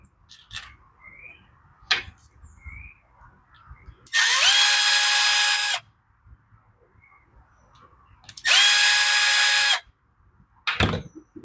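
Two sustained bursts from a cordless power driver backing screws out of an Echo SRM 225 string trimmer during a carburetor rebuild, each roughly a second and a half, close and loud, with light handling clicks between them.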